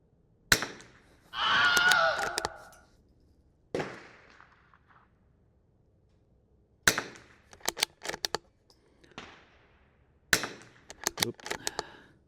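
A Bergara BMR-X .22 LR rimfire rifle fires a series of sharp, close cracks in clusters separated by quiet pauses, with a longer rushing noise early on.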